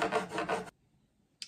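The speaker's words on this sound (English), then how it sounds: "we just grind it on here, a bit of water, until we get a nice flat surface generated on the chisel here" A chisel held in a honing guide is ground flat on a wet sharpening stone, giving a loud, steady rasping scrape with rhythmic back-and-forth strokes for under a second, then near silence and one brief final rub.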